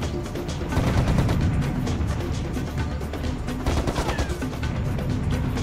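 Loud, nonstop gunfire and blasts from the video game Serious Sam HD 2 pound along in dense overlapping bursts, with no voices on top.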